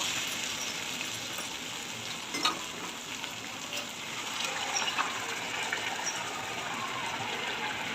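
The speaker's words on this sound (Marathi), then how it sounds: "चण्याची डाळ शिजवण्याकरता आपण गरम पाणी टाकून घेऊया" Hot water poured into a pan of chana dal hisses and bubbles steadily, a fairly quiet, continuous rush with a few faint splashes.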